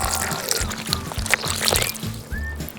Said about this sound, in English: Now I'm going to add some water.